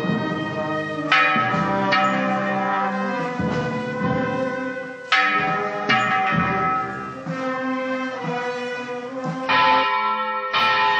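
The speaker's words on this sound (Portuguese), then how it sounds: "Um sino responde o outro." Church bells peal continuously during a religious procession honouring saints, several bells answering one another in overlapping rhythmic strikes, loud and sustained with fresh clangs every second or so.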